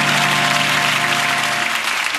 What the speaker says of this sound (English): a big round of applause for Alexander and Vera.